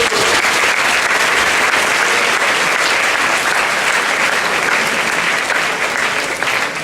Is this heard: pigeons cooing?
no